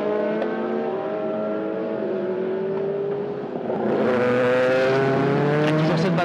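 Race cars roar past on the Magny-Cours circuit as a Bentley battles a 2007 Audi R13 DTM for the lead, with loud sustained engine notes and pitch shifts as the cars pass close, then a fresh surge of revving.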